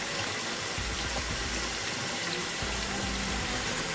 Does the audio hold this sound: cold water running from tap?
yes